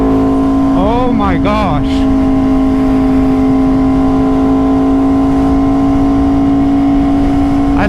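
An Aprilia RSV4 sport motorcycle on the road, its engine drone loud and close with a rising rev sweep early on before settling into a steady cruising tone, with a rider's brief excited exclamation over it.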